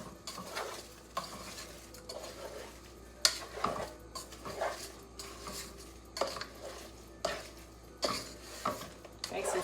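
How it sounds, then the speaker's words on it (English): Home fries get stirred in a pan on a stove over a low flame, with repeated scraping strokes of a utensil against the pan every second or so over a faint sizzle. "now I'm just going to turn the flame on low and I'm going to stir it all up"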